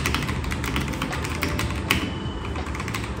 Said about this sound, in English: those computer lab keyboards from school that made that satisfying clack clack sound